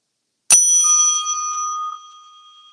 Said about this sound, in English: the sound of this bell